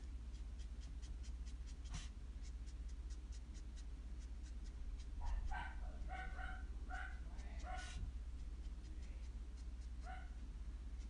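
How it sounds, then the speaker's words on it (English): Faint puppies barking and yipping from an upstairs room, a brief cluster of muffled yaps heard at a distance over steady room noise and the scratch of coloring on paper. "My puppies are barking upstairs."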